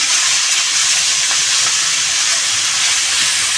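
Chopped leaves and garlic frying together in a pan, a loud, even hiss of oil that stays constant and close, with only faint clinks beneath it.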